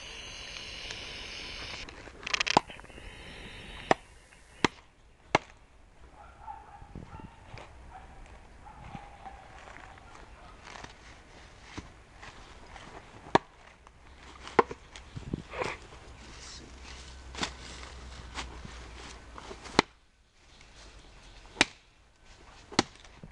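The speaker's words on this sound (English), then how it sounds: "I'm going to do some wood chopping with it" Sharp, isolated strikes of a seax knife chopping wood ring out at irregular intervals against a quiet outdoor background, each a crisp knock on wood.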